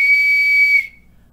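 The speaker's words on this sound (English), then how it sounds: "You want me to whistle? Okay." A person whistles a single sustained clear high note, loud and close, that holds steady for nearly a second before stopping cleanly. Faint low room noise remains afterward.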